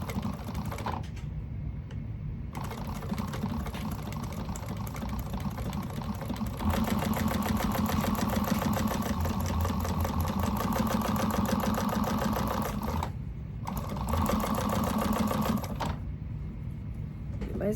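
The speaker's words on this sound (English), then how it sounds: "we're going to go ahead and sew it along here at the seam allowance that she gives in the pattern" A sewing machine stitches a zipper tape along a seam in close, steady runs of rapid needle chatter, pausing briefly twice before starting again, with no talk.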